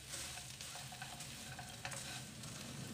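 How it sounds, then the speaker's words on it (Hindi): Roasted puffed rice (kheel) is stirred in a pan, giving a steady close scraping and rustling with a faint sizzle throughout. "साथ में ही डाल देंगे हम खीर जो रोस्ट की हुई थी, इसको हम अच्छी तरह से मिक्स करेंगे।"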